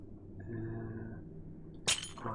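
A glass block breaks in Minecraft with a single short, bright shatter near the end, cutting through a low, steady game ambience.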